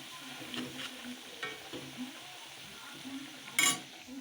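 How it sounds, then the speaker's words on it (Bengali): Puli rice dumplings fry in a pan with a soft steady sizzle, punctuated by light stirring and scraping of a utensil and a brief sharp clink near the end. "আর এই যে ভাজা পুলিগুলো ভাজছি"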